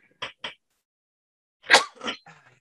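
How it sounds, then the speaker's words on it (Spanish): A man sneezing during a lecture: two short sharp intakes, a pause, then a loud explosive burst followed by smaller trailing sounds, close and alone. "me voy a estornudar"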